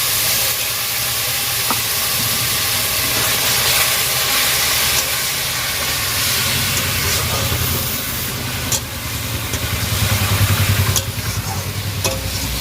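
Water poured into a pan of mutton fat and liver curry sets off a loud, continuous hiss and sizzle of steam. Stirring and clatter grow near the end, and no one speaks.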